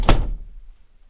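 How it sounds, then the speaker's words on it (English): One short, solid thunk of a door shutting nearby, then quiet as the sound fades. "Close the door."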